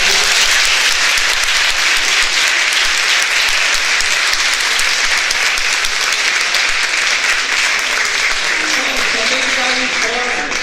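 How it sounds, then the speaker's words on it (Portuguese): Auditorium audience applauding a professor at an academic rural studies meeting, a dense, steady clapping that fills the whole stretch at high level, with faint voices mixed in toward the end. "a gente vai dar uma salva de palmas para o professor"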